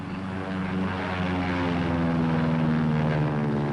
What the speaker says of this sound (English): Now, these planes are practicing short field landings and takeoffs.